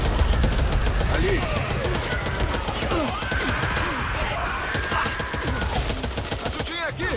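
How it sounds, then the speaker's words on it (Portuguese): Rapid, dense gunfire from the co-op zombie shooter game Back 4 Blood, with loud overlapping bursts of shots crackling steadily for the whole stretch while voices talk and shout over the shooting. "pra onde você tá atirando, cara?"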